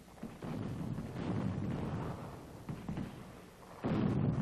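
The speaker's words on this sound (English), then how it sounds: "French artillery pounds Toulon prior to the fall of the naval base" French artillery bombarding the Toulon naval base in wartime: rumbling, booming blasts, distant and muffled, rolling in sustained waves with a fresh heavy burst near the end, with no talking.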